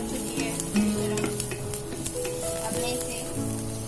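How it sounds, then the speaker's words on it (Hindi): Chopped onion sizzling and frying steadily in a pan for chicken soup while being stirred continuously until light brown, a close, constant crackle with scraping stir strokes throughout. "इसे कंटिन्यूसली हिला के हमें इसे लाइटिश ब्राउन करना है।"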